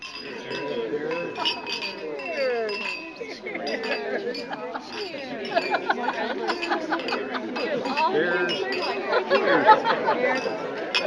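Wine glasses clink in a toast at a wine social, scattered bright chinks sounding amid lively crowd chatter and overlapping voices.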